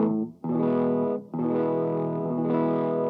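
An Ernie Ball Music Man Armada electric guitar with humbucker pickups strums thick, slightly distorted chords in a few sustained bursts, full and close, with no talking.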